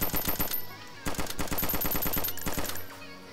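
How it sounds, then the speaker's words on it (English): Rapid gunfire from the DayZ Standalone video game, bursts of sharp shots in quick succession with a few brief pauses, loud and close with no talk over it. "Popping shots."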